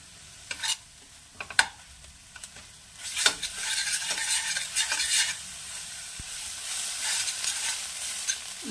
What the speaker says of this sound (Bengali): পুরো এটাকে আমি ভাজা ভাজা করে নেব